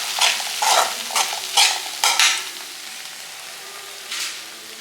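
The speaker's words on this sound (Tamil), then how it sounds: "இப்போ நம்ம அதே நெய்யில் நம்ம அரைச்சி வச்ச ப்ரெட்டையும் ஃப்ரை பண்ணிக்கலாம்." Ground bread frying in ghee for bread halwa, a series of short scraping, sizzling bursts as a spoon stirs and spreads the crumbs in the pan, then quieter frying, no talk.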